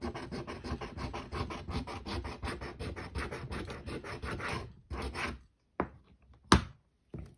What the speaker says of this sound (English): And the coin scratches really nicely.